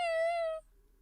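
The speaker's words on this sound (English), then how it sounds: "That's one of my cats." A single pet cat lets out one clear, close meow lasting about half a second, followed by a faint quiet room.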